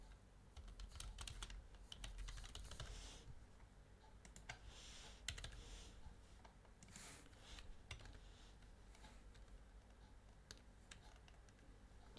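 Close, quiet typing on a computer keyboard while entering text in Photoshop, a steady run of rapid key clicks with small pauses and no speech.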